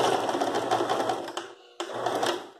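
A sewing machine stitches the hem of a cloth dish towel in a fast, steady run of needle strokes close by, then stops briefly and starts again for a short final burst.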